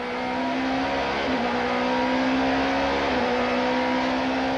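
Super touring race cars, including BP Nissan Sentras, an Audi and BMWs, race at Kyalami in 1995, engines droning at a steady high pitch with brief gear-change dips, heard from a fixed trackside spot without commentary.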